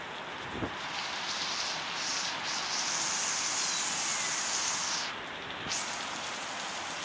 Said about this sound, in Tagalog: Lakas pa naman talaga ng ulan